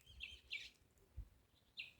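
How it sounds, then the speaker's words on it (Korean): Songbirds chirp by a secluded lakeside on a mountain trail, a few short bright calls in separate bursts, fairly faint against a quiet outdoor background. "새소리들 들리시죠?"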